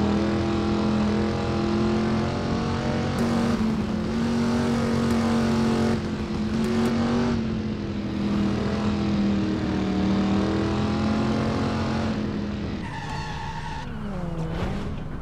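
Car engines roar and tires skid during a freeway chase in Driver: San Francisco, with loud sustained engine tones rising and falling under quick gear changes, plus brief screeches and whooshes of passing traffic.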